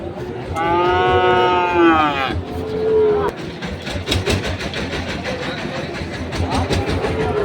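A Sahiwal bull lets out a long, loud moo, followed by another lower moo amid a busy crowd of voices and chatter at a cattle market.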